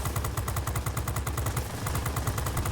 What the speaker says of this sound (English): I want to make sure my frickin' weak-ass cannons, machine guns here are actually hitting